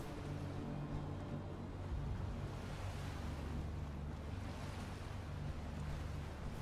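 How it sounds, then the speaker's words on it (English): Water waves in Fallout 4 wash steadily with a constant low surf roar and a windy hiss, even and unbroken throughout, with no voices. "that's just the sound of the water"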